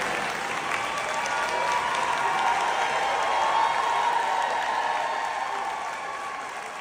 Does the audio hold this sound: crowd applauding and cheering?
yes